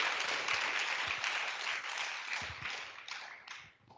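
An audience at a talk on the inner struggle for truth, empathy and justice applauds steadily for about four seconds, a dense wash of clapping that thins and fades toward the end.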